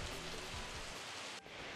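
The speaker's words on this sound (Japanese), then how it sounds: "雨は強弱を繰り返しながら断続的に降っています。" Heavy rain pours steadily in Shizuoka as Typhoon No. 10 approaches, a dense, unbroken hiss that dips only briefly near the end. No voices are present.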